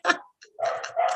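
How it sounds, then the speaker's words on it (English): Dogs barking indoors in the background of a tech talk, a few sharp barks in quick succession, moderately near. "Sorry about the dogs."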